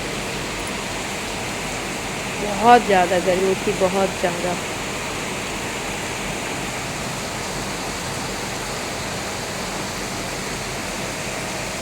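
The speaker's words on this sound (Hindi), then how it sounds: "बारिश होना बहुत ज़रूरी था" Heavy rain pours at night around 3 a.m., flooding the road, a steady dense broadband hiss filling the whole clip, with someone speaking briefly over it near the start.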